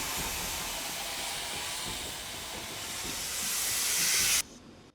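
A steam train in a film scene hissing, a continuous loud broadband rush of escaping steam that swells slightly before cutting off abruptly near the end.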